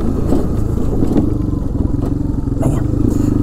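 A Honda 300 Fourtrax 4x4 ATV with an inch-bigger tires and a 2-inch lift runs loud and close on frozen ground during a test ride, its engine rumbling steadily with rattling clatter.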